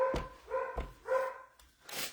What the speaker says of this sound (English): I'm sorry if you have dogs and you hear my dogs bark.